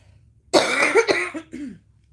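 A close, harsh cough fit of a few rough bursts, trailing off into a throaty rasp, in an otherwise quiet room.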